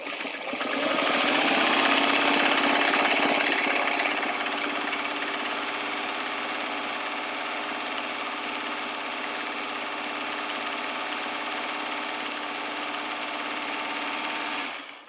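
A sewing machine runs steadily, stitching fabric pieces together for a reversible trick-or-treat bag, with a continuous close motor hum and needle whir that holds for about fifteen seconds and is heard alone.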